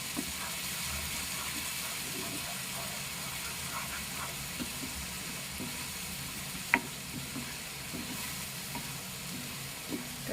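Dahi tikhari being stirred in a pan as it cooks, giving a quiet, continuous sizzle with occasional soft scrapes and a single sharper clink partway through.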